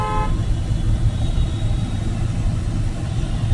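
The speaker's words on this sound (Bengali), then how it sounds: "চলো চলো, হর্ন দাও, হর্ন দাও, সিগন্যাল আছে, হর্ন দাও" Car horn sounded by a learner driver on a road at a signal, one short toot at the start followed by the loud steady rumble of the engine and traffic noise.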